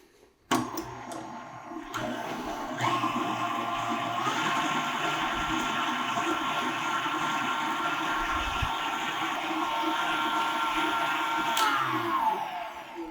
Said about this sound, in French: ça me prend une demi-tasse de beurre ici, dans mon malaxeur